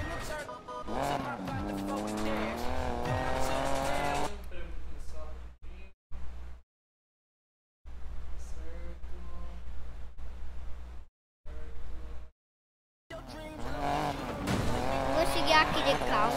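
Racing video game car engine revving and whining near and loud, with pitch sweeps and tire squeals, cut by abrupt silent gaps before resuming at full volume.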